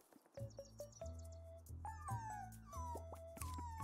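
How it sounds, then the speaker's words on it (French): A dog in the video game It's Paper Guy lets out a series of short whimpers and whines, rising and falling in pitch, set over a low game music backdrop. "J'ai coupé le méchant chien, donc du coup il est gentil."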